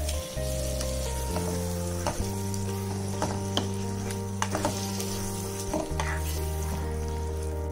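Roasted chicken tikka sizzles steadily in a pan of masala while a spoon stirs it, with occasional scraping clicks over a constant steady hum close by.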